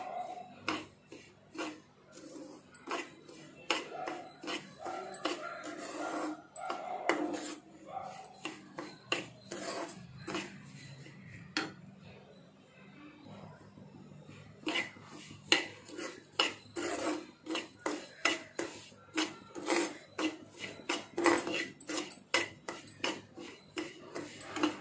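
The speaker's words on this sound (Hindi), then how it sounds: "ये देखिए थोड़ा थोड़ा अभी सूजी भुन गया है।" Semolina roasts in two large spoons of ghee in a pan while a spoon stirs and scrapes it, giving a long run of quick, close scraping and clinking strokes with brief pauses between bursts.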